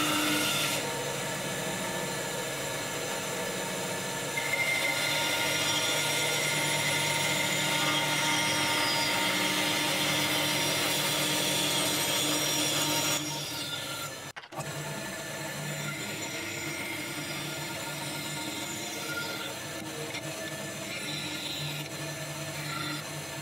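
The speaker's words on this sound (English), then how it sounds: "And then I'll cut out the outline for the handle on the bandsaw." A continuous loud mechanical whine and roar of a bandsaw cutting a wooden handle outline for a knife strop, steady for most of the clip with a brief dip before resuming.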